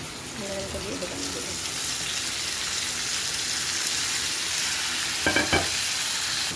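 Ginger garlic paste fries in oil for a rich mutton curry, giving a steady loud close sizzle like rushing water, with a few faint stirring clicks and a short burst of scraping near the end.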